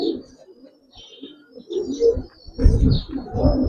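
Giribaz pigeons in a loft give soft, low cooing and scattered chirps, close by and intermittent, growing busier and louder toward the end with no talk over them.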